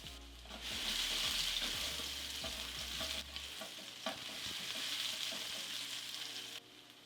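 Chopped shallot sizzles steadily in hot avocado oil in a pan, a continuous bright crackle with a few soft stirring knocks, with no talk over it.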